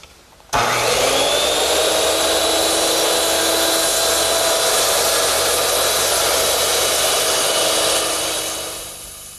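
A circular saw making horizontal cuts in wood for a step stool: the motor snaps on into a loud, steady whine that holds for several seconds, then tapers as it winds down.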